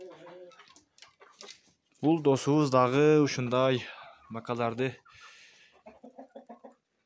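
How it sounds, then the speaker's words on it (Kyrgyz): Adler silver chickens clucking inside a hen house, a run of short, soft, evenly spaced clucks near the end, with someone talking loudly over the first part. "Бул жерде тууп атат тооктору."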